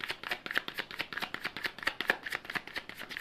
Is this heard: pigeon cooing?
no